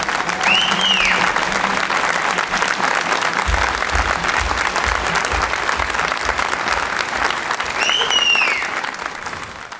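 A studio audience applauds loudly and continuously as performers come onto the stage of a comedy show, dense clapping throughout with a couple of short whistles or cheers.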